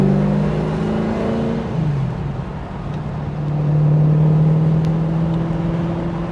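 A 1989 Aston Martin V8 Vantage Volante X-Pack with a 7.0-liter big-bore V8 drives a winding road, its engine note dropping and rising steadily through the curves, close and strong with no talk.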